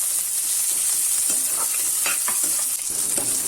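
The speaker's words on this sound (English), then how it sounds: "be adding finely chopped spring onions" Chopped spring onions stir-fry in hot oil over a high flame, giving a loud, steady sizzle with scraping stirs throughout and no talking.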